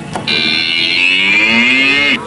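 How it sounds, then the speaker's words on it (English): A recorded cow moo plays from a push-button at a Legoland Florida exhibit, one loud, sustained, slightly buzzy electronic moo lasting about two seconds. "it makes a moo sound"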